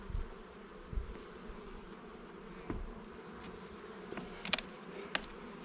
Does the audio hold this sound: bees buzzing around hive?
yes